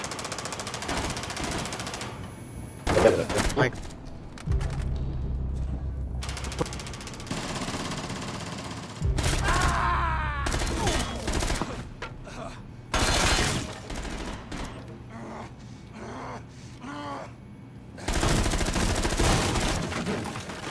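Pistol gunfire in the tactical shooter Rainbow Six Siege comes as repeated sharp bursts of shots through the clip, with mechanical clicks and handling noises between them and no talk.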